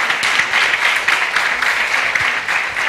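A crowd applauds steadily, a dense wash of clapping hands throughout, moderately loud, with no voices standing out.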